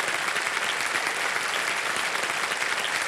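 A quiz show's studio audience claps in a broad, continuous burst. The applause stays thick and even for a few seconds with no talk on top.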